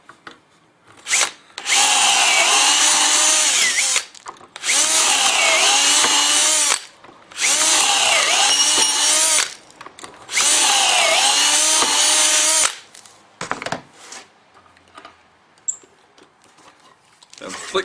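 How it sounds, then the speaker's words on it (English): A power drill whines loudly in four bursts of a few seconds each, boring dowel holes into thick clamped wooden boards, with brief pauses and small handling clatters between. "and drill our holes."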